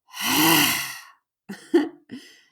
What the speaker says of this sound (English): So you let out your tongue and you make a funny face and you roar.